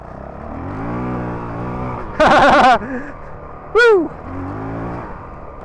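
Honda CRF450RL dual sport motorcycle ridden fast, its engine revving and droning close by, with two sharp loud bursts and a rider's excited shout.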